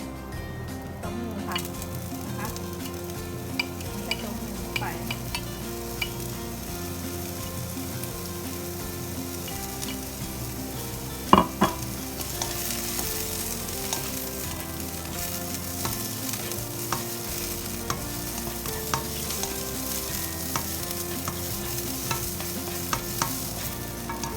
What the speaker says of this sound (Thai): ผัดให้มันหอมนะคะ